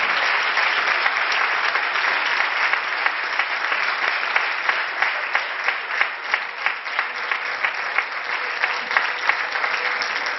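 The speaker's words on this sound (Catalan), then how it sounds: "també acomiadem, encara que s'assente a l'escenari, en un fort aplaudiment a la mantenidora de la nostra fallera major, Natàlia Torres i Castro." Audience applause at a fallera presentation in Valencia, a sustained wash of dense clapping from a large crowd that holds steady and loud for the whole stretch, with no talk over it.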